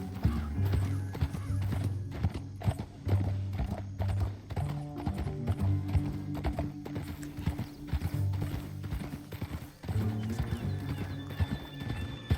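Horse hooves clip-clopping steadily in a Red Dead Redemption 2 ride, a close rhythmic trot continuing throughout with faint background game sounds.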